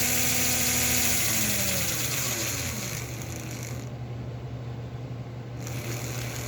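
An NGS DC permanent magnet model train motor runs steadily on a bench, a close, loud continuous whirring hum with a mechanical whine that shifts slightly in pitch, heard alone without talk.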